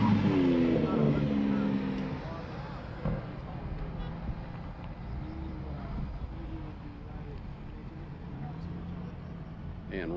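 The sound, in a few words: Porsche GT2 RS race car on track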